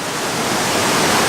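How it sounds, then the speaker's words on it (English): A waterfall running down to Lake Como gives a steady, loud broadband rush of falling water, continuous and close, with no voices. "this absolutely gorgeous waterfall behind me, which runs down to Lake Como here"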